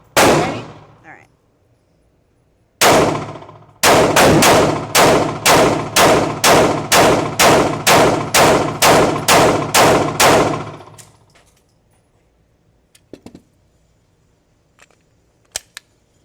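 A CZ P pistol with a ported barrel fires one loud shot, then another, then a rapid string of about eleven evenly spaced, sharp shots before the sound dies away, with faint clicks afterward.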